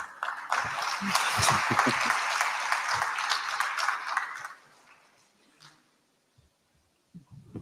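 Audience clapping at a conference on African digital discourse, fairly loud and dense for about four seconds before fading away, with a few scattered sounds and some talk afterward.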